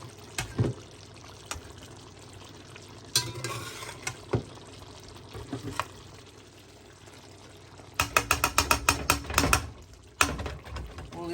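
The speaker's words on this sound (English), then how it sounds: "Just want to stir it a little bit, not too much." A spoon stirs Jamaican ackee stew with chicken in a pot: scattered scrapes and clinks over a low sizzle, then a quick burst of rapid rattling strokes near the end.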